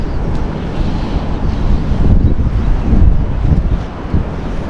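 Strong wind buffets the microphone out at sea while a man keeps fishing, a steady loud roar with gusty swells and no voices.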